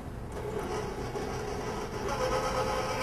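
An electric mixer starts on low speed, beating chopped rose petals, dry ingredients and egg whites into raspberry macaron batter, giving a steady mechanical whir that holds even and fairly loud throughout.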